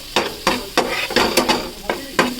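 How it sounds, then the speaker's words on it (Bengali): Prawns rubbed with salt and turmeric fry lightly with vegetables in a pan for Maggi noodles, a steady sizzle broken by about seven rhythmic scraping stirs, close and clear. "আর একটু হালকা ফ্রাই করবো।"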